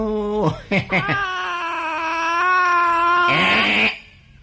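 A loud, drawn-out meow rises into a long wavering caterwaul after a few short chirping cries, close, ending in a harsh breathy burst.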